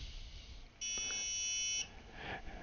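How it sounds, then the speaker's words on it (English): An RFID lock controller's buzzer sounds once on a denied card, a single flat electronic tone lasting about a second, moderately loud against quiet room noise. "hopefully you heard that the buzzer went"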